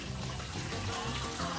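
Tap water runs steadily into a sink for handwashing, a continuous, even rushing splash with no pauses and no voices.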